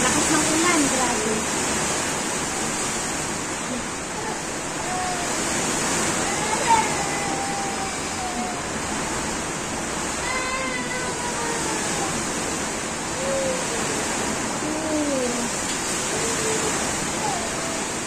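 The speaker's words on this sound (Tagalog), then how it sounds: "Lakas ng ulan, grabe." Heavy rain pours steadily as a dense, close broadband roar that lasts throughout, with a few faint voice-like sounds rising and falling beneath it.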